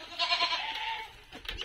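Small young goats bleat in a farm setting, a single wavering, nasal cry held for about a second before trailing off, fairly close and clear with no talk.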